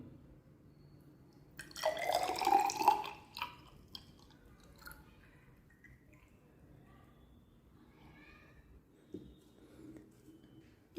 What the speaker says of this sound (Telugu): టెస్ట్ ట్యూబ్లోకి కొంచెం వాటర్ పోస్తున్నాను